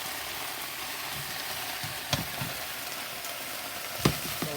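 Steak, onions and vegetables browning in a stir-fry pan, a steady low sizzle of frying throughout with a couple of sharp clinks or stirring knocks, no talking.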